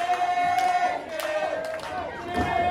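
A wrestling crowd at the Ukrainian Orthodox Center shouts and cheers in a sustained roar, with a whistle-like tone running through it and loud swells near the start and end.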